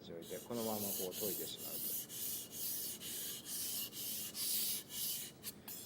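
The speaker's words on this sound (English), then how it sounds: "If you try to sharpen your knife this way, you'll never achieve a professional edge." A kitchen knife is sharpened by hand on a whetstone, with steady rhythmic scraping strokes repeating about every half second, close and fairly quiet, with no voices.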